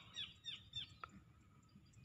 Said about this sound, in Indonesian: burung kepanasan juga